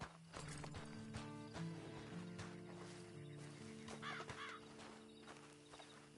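Horse hooves clip-clop in a video game, an irregular series of clops mixed with game ambience, a crow's caws and a brief whinny, moderately close and fairly quiet overall.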